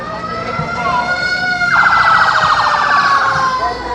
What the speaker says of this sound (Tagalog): Fire truck, fire truck!